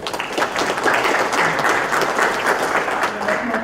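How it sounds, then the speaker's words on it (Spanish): Loud, sustained applause from an audience at a law seminar greets a speaker, with steady dense clapping and no pause throughout. "La recibimos con fuertes aplausos, por favor."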